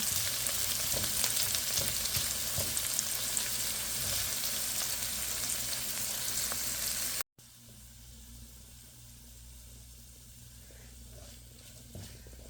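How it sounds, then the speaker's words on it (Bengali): Sliced onions sizzle and crackle steadily in hot oil in a cooking pot as they brown, a dense close frying hiss that drops suddenly to a quieter sizzle partway through. "পাতিলে তেল দিয়ে পেঁয়াজটা দিয়ে দিয়েছি এখন একটু ব্রাউন কালার করে নেব"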